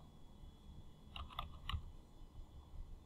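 A few quick keyboard key presses in a short cluster, entering a six-digit verification code, fairly soft, over a low background hum.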